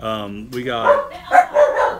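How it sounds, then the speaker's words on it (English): Excited puppies at a house party bark and yip in quick high-pitched bursts, close and loud, overlapping with people talking nearby. "puppies going crazy. Puppies."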